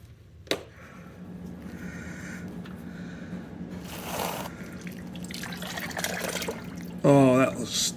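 Fluid gushing and dripping from the loosened drain plug underneath a 1990 Volvo 245, a steady splashing pour that swells partway through, with a person speaking briefly near the end.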